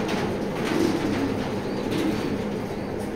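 A racing pigeon, a male bred in 2020, coos softly in a loft, low repeated throaty murmurs against a steady background hum, close and continuous with no voices.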